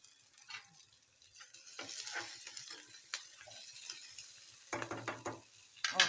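Onions fry gently with coriander in a pan for a tomato chutney, a faint, soft sizzle broken by scattered clicks and scrapes of stirring.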